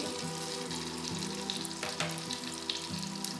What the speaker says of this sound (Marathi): हे दोन्ही थोडं परतून घ्यायचं आहे